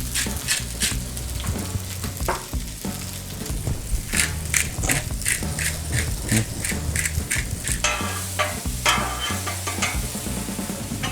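Green peppers and purple onion coated in cooking oil sizzle on a 36-inch Blackstone griddle, a steady loud hiss broken by repeated scraping and stirring clatter of a spatula, with no voices.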